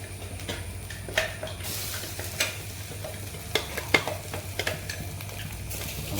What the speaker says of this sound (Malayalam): നമ്മുടെ പയ്യെ ഇളക്കി കൊടുക്കാം